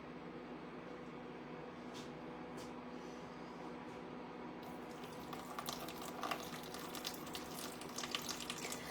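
Tap water from an Ontario well poured into a bowl for sourdough dough, a soft continuous pour under a steady low hum, turning into a brighter splashing stream midway through.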